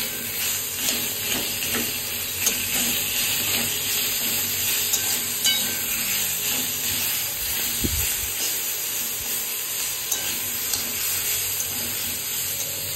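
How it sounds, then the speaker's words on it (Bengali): Steady, close sizzling of a fish head frying in hot oil, a continuous hiss with small crackles and no voices. "চলো, অনেকটাই ভাজা হয়ে গেছে।"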